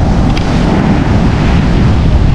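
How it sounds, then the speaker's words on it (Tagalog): Strong wind on a beach in Botolan, Zambales, buffeting the microphone in a steady, loud roar, with no voices. "Basta nga hangin."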